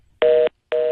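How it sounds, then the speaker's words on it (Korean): Two short, loud electronic telephone beeps sound in quick succession as a phone interview call drops, each a steady tone with a clean gap between. "전화 인터뷰 도중에 전화가 끊겼습니다. 갑자기 삐삐 소리가 나는데"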